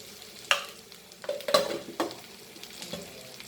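Cumin seeds frying in a pan with garlic butter while cooking taro root, with stirring scrapes and soft sizzling crackles in several bursts, close and moderately quiet.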